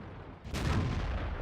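A tank cannon shot in World of Tanks during a duel with a T-54: a single loud, broad booming report that hits near the middle and rolls on as a sustained rumbling tail.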